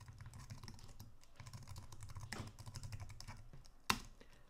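Typing code on a computer keyboard, steady rapid key clicks at close range with a louder single keystroke near the end, no talking.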